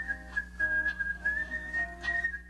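Someone whistles Hungarian Rhapsody No. 2, a clear, steady melodic whistle with wavering sustained notes and short phrase breaks, close and prominent without any talking.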